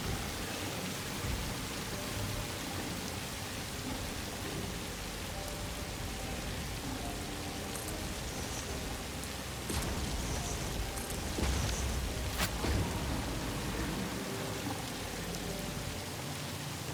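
Heavy rain falls in the video game Satisfactory, a dense, constant hiss of downpour that stays loud and unbroken throughout, with a few sharper crackles midway.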